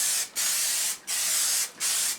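Plasti Dip sprays from an aerosol paint can in three loud, close bursts of steady hiss, separated by brief pauses, with nothing else audible.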